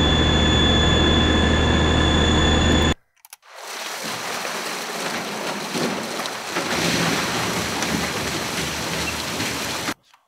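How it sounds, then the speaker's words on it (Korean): Turbine sound effect from an industrial sound library: a steady, loud, broadband rushing roar that cuts in after a sharp break and runs continuously, then stops abruptly near the end. No voices. "거기에 이제 터빈 소리도 있어요."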